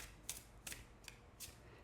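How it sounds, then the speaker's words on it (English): A gilded-edge tarot deck being shuffled in a quiet room, with four brief, soft riffling bursts spaced about every half second, faint and close with no talking. "You hear that? It gives you that wonderful card sound"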